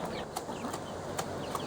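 A hen in a backyard flock clucks in a few short, sharp bursts against a steady outdoor background, fairly close and moderately loud.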